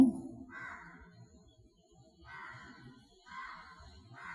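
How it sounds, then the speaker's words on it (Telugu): A crow caws three times at a distance, short hoarse calls spaced about a second apart, faint over quiet indoor room tone in a gathering hall. "కాకి అరుస్తోంది"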